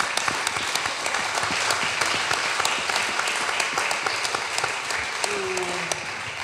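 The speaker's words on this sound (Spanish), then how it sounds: "Aplauso" Audience applause at a library tribute event, a broad steady clatter of many hands with a few sharper claps standing out, and a voice briefly audible near the end.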